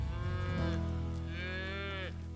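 Red Angus cattle on a hillside ranch near Mount Diablo low loudly twice, a long drawn-out moo followed by a second rising call, close by with no talking.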